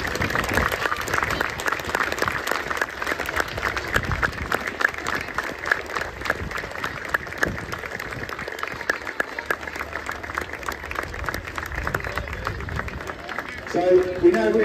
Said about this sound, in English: I'd like you all to join us in a special round of applause